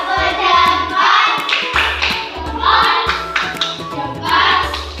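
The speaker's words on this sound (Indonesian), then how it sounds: "Kita beri tepuk tangan, tepuk jempol ya" A school class claps hands together in a steady rhythmic pattern, bursts of group claps repeating in even beats with light voices chanting along.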